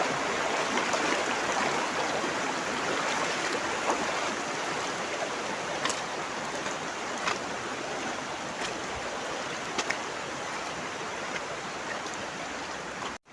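Steady broadband rush of river water flowing near a rural farm in the Philippines, continuous and fairly loud throughout with a few faint brief ticks over the top and no talking.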